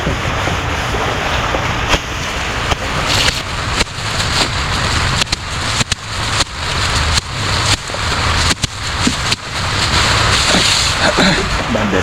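Heavy rain pours down at a farm, a steady dense hiss with occasional sharper splashes and knocks throughout, loud and close, with no voices over it.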